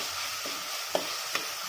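Tomatoes are mashed and stirred in a hot pan for Tamil-style egg rice, a steady sizzle of frying under a few soft scraping knocks of a spoon, with no talking.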